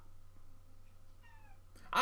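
A cat gives a single drawn-out meow near the middle, fairly clear but not loud, over a quiet indoor hum, followed by a brief louder rustle or thump at the end.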